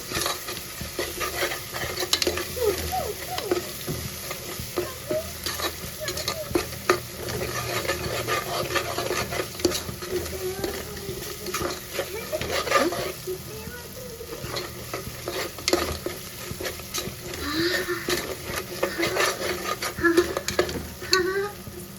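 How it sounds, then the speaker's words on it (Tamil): Ginger garlic paste and onions sauté in a pan with a constant sizzle, overlaid by repeated scraping and clinking strokes of a spoon stirring against the metal throughout. "இஞ்சி பூண்டு பேஸ்ட்டு நல்லா பச்சை வாசனை போகிற அளவுக்கு நம்ம வதக்கிக்கலாம்"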